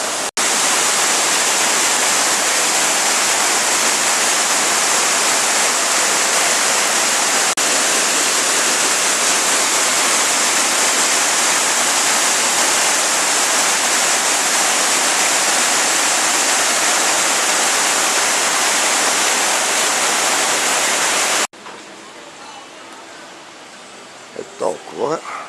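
An artificial waterfall pours in a loud, steady, unbroken roar that fills most of the stretch close at hand, then cuts off abruptly, leaving quieter background with a few brief sounds.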